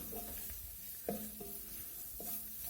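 Chopped garlic sizzling in a pan as it starts to cook for smothered pork chops, a soft steady frying hiss with a few faint clinks and scrapes, fairly quiet and alone.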